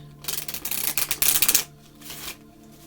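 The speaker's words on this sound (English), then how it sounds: "Shuffle that a couple times and then pull something" Oracle cards riffle-shuffled in a few quick bursts, a crisp papery flutter close to the mic, then a short softer shuffle after a pause, with no talking.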